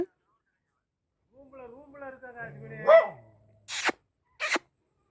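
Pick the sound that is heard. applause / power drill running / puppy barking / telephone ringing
puppy barking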